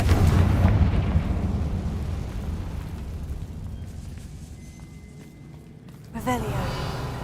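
Spell explosion effect from a Harry Potter video game, a loud low rumbling boom that decays over several seconds, followed by a sharper crackling burst near the end.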